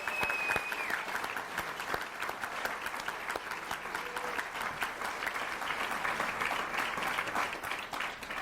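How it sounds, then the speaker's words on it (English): A crowd applauds steadily at an athletic hall of fame induction ceremony, dense clapping sustained throughout at moderate volume, with a few faint tones and murmurs beneath. "can I please have a big round of applause for your family?"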